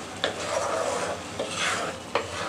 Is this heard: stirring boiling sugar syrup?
yes